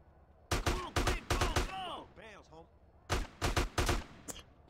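Gunfire during a city riot in GTA San Andreas Definitive Edition: two loud bursts of rapid automatic shots, each a cluster of sharp cracks, separated by a pause in which a brief voice is heard.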